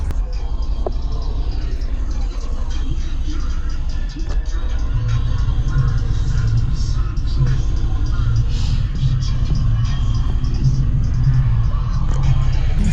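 An 18-inch SMD subwoofer being broken in on an 8K amplifier, a loud continuous low bass rumble and throb filling the space, with voices talking over it.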